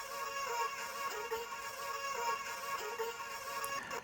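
A soft ambient synth texture from an FL Studio dance-track drop shimmers as a steady, airy wash with faint high sparkles. Quiet and continuous, with no voices.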